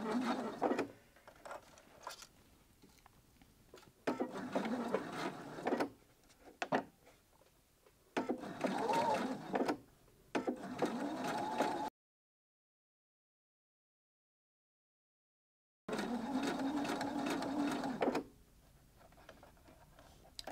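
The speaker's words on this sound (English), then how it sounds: "using needle up down and just allowing the fabric to fall, not being tempted to push the fabric through" A sewing machine stitches bias binding onto fabric in several steady bursts of fast mechanical ticking, stopping between runs and falling completely silent for a few seconds, close and moderately loud, no speech.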